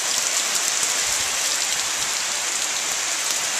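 Steady rain pours down during a warm, muggy summer thunderstorm, a dense even hiss of drops on surfaces with gusty air, continuous and close with no voices.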